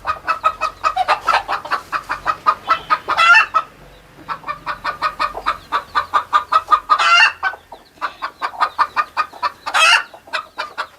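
Many chickens on a poultry farm cluck loudly and continuously in dense, rapid bursts, a busy coop full of hens with no one speaking.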